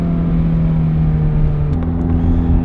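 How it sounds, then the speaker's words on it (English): A Ferrari F430 Spider engine drones steadily and loudly at close range, its pitch stepping down partway through as the car downshifts, with no talking. "Yeah, that's a good downshift."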